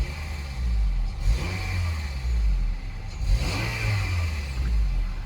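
2008 Honda CR-V EX with a 2.4-liter four-cylinder engine, revving in two swells that rise and fall over a steady low rumble, heard fairly close and without talk.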